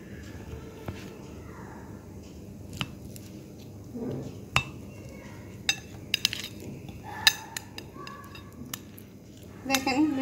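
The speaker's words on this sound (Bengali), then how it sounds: "এখন আমি আপনাদেরকে কেকটি কেটে দেখাবো।" A knife cuts through milk cake barfi in a bowl, producing scattered light clinks and taps of metal on the dish over a quiet background.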